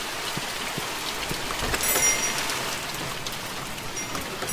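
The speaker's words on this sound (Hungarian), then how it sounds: "és szakad az eső." Heavy rain pours steadily in The Mortuary Assistant horror video game during a night shift, a dense, constant hiss of falling water with scattered drops, loud and continuous with no voices.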